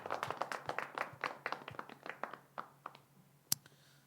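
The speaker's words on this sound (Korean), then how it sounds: "우리 하나님께 영광의 박수 한번 올려드리겠습니다" A small congregation claps at a church Bible class, with a few dozen distinct hand claps in an uneven rhythm that thin out, and one sharp final clap near the end.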